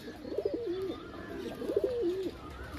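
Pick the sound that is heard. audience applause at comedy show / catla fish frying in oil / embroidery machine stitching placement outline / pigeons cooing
pigeons cooing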